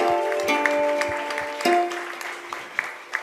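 A church congregation claps during a Tamil worship service, with scattered hand claps and sustained tones from singing or keyboard accompaniment running beneath, the clapping moderately loud and somewhat uneven rather than a dense ovation.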